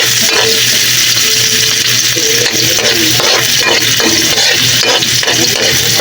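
Onions fry loudly in a pan after garlic for a Filipino pansit dish, a dense, constant sizzle with repeated stirring scrapes close up, and no talk.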